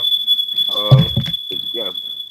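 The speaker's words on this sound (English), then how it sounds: "That's your smoke detector?" A smoke detector chirps as a thin, steady high tone running throughout, while people talk over it in the foreground.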